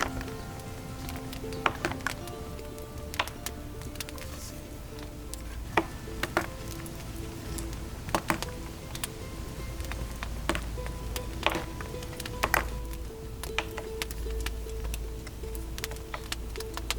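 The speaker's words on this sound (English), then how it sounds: "I'm going to chop all of it into large pieces." Dark chocolate with 70% cocoa being chopped into large pieces by knife on a board: scattered sharp clicks and taps at an uneven pace over a steady low background hum, fairly close, with no talking.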